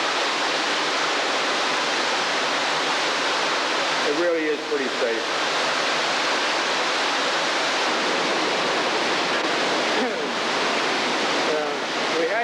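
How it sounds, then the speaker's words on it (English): Water rushes steadily into an old 1990s Lancaster County, Pennsylvania mill through a partly opened board, a loud continuous roar like a small waterfall that fills the whole stretch while someone talks briefly over it. "We had to open up one of the boards a little bit to give us some more water in here"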